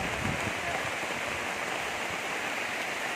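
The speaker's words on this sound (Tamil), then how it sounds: "1 மணிக்கு என்ன மழைன்னு பாருங்கள்." Heavy rain falls in a steady, dense wash of noise, loud and unbroken throughout with no other sounds standing out.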